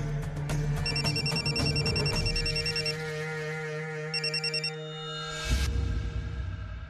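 A telephone rings in a home during a Marathi TV drama scene, sounding repeated bursts of bright electronic trills over a low background music bed, then stopping abruptly.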